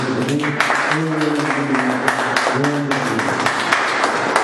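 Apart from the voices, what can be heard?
congregation clapping hands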